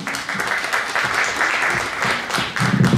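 An audience at a peace film festival guest talk claps steadily in a dense, continuous round of applause with a few louder individual claps near the end.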